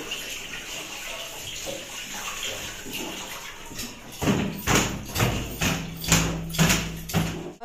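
Running tap water splashes as hands stained with food colour from carrots are washed in a home kitchen, a steady gush with several louder pulsing splashes toward the end.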